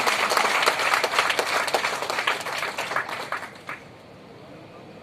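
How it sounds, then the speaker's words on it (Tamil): An auditorium audience claps for poets at a library event, dense applause that thins and fades out toward the end. "ஒரு அரங்கம் நிறைந்த கைத்தட்டல நம்ம தரணும்"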